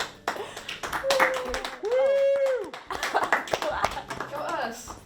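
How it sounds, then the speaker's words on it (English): A few people on a school TV show clap and tap sporadically while others talk and cheer, with a drawn-out vocal whoop standing out partway through. "If we give them a round of applause"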